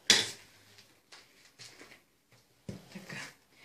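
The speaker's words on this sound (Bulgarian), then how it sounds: "Разбърквам." Flour, salt and oil being stirred in a bowl, a sharp clink of a spoon against the bowl followed by short intermittent scraping and tapping strokes, close and fairly quiet.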